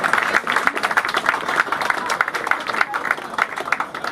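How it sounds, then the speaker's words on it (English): Audience applause for Devils and Prudential Center CEO Scott O'Neill at a Martin Brodeur statue ceremony, dense steady clapping from a crowd for about four seconds, with voices mixed in. "Round of applause for him."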